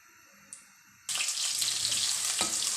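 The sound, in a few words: garlic and onion frying in hot oil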